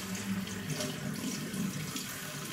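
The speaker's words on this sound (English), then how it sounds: "I'm gonna pour it out like this." Water pours steadily from a kettle into a sink, a continuous splashing stream that stays even and close with no voices.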